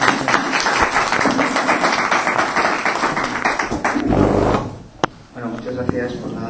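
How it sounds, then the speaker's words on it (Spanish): A conference audience gives a strong round of applause for Enrique San Miguel, dense, loud clapping that fades out after about four seconds, followed by a few scattered knocks and room noise. "Le damos un fuerte aplauso a don Enrique y le damos la palabra."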